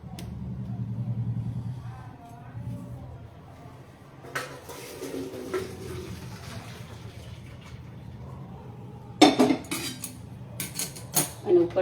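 Cooked pasta is tipped from a pot into a colander: soft handling noises first, then a burst of metal clanks and splashing draining water close by toward the end.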